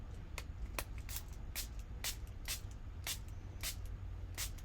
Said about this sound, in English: you can hear the marbles in that one